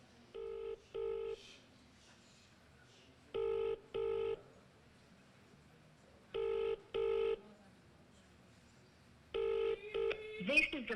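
A telephone call ringing out over a loudspeaker, with a British-style double ring: four pairs of short electronic tone bursts at an even pace, fairly clear over a low background hum, then a brief rustle at the end.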